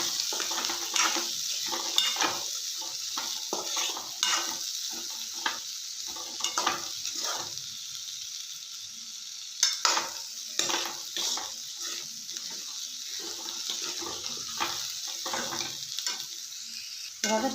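Green beans palya stirred in a frying pan with salt and coriander: a steady sizzle runs throughout, broken by irregular scraping strokes of the spoon against the pan, up close with no voices.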